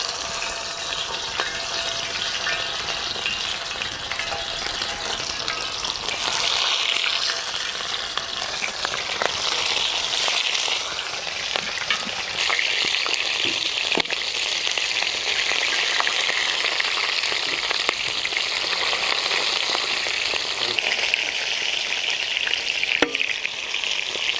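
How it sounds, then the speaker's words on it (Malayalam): Chicken pieces frying in ghee and oil for an Arabian chicken kabsa, a steady dense sizzle with crackling spatters and occasional stirring scrapes, continuous and fairly close throughout. "നമുക്കത് ചിക്കനൊന്ന് വറുത്തെടുക്കാനുള്ളതാണ്."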